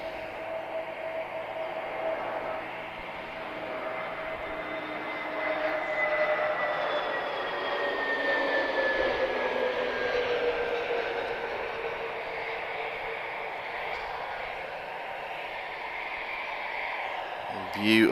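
A TAP Air Portugal Airbus A321neo arriving from Madrid on landing approach to Lisbon airport gives a steady, moderately distant jet whine and roar that swells and slowly fades.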